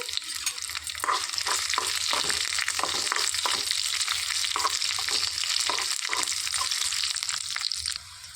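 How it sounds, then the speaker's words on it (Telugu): Coriander seeds and dried red chillies frying in a pan, a busy crackling sizzle with repeated rhythmic stirring scrapes, close and fairly loud throughout. "ధనియాలు కూడా వేసుకొని వేయించుకోవాలి ఎండుమిర్చి కూడా వేసుకొని వేసుకోవాలి వేయించుకోవాలి"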